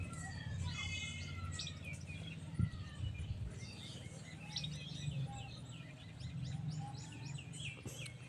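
Pigeons in a loft call and chirp continuously. Many overlapping bird calls sit over a steady low background rumble, with no talking.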